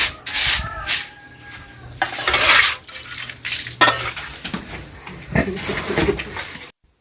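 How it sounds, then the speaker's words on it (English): Pigs rub their bellies against surfaces in a pigsty at an African village piggery, giving repeated close scraping and rubbing bursts with irregular rhythm and a few clattering knocks, with no talk. "All the pigs love rubbing their bellies like that."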